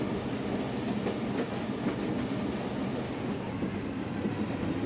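The Tista Express intercity train runs on rails between Dhaka and Joydebpur, a steady loud rumble with faint clickety-clack from the wheels, heard continuously from inside the carriage without talking.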